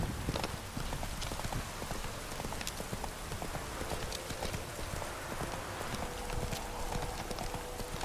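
Roach, a horse in The Witcher III: Wild Hunt, trots with steady clip-clopping hooves over a continuous rain-like hiss, the hoofbeats close and even throughout.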